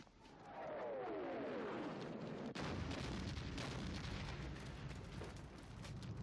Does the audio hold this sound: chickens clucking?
no